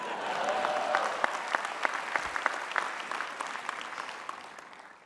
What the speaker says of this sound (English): you can cheer for him